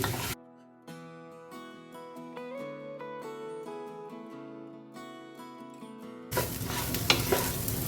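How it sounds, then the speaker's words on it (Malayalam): Rice being stirred and fried in ghee over a medium flame: after a long stretch of instrumental music, a loud, close, hissing sizzle with scraping stirs takes over for the final couple of seconds. "ആ ഒഴിച്ച നെയ്യിലൊന്ന് ശരിക്കൊന്ന് മൂപ്പിക്കണം, ഒന്ന് ഫ്രൈ ചെയ്തെടുക്കണം ഈ റൈസ്."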